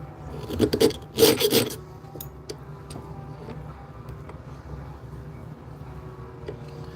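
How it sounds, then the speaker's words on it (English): A metal burr is filed off a workpiece at a bench, with two short, loud rasping strokes close by, followed by quiet ambient hum and faint small knocks. "I'll go get rid of the burr first"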